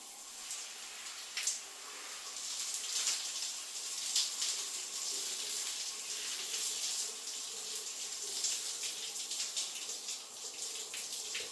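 Steady running water from a shower or faucet while shampoo is rinsed out of hair, a continuous bright hiss with small splashy fluctuations, close and fairly loud throughout with no talk.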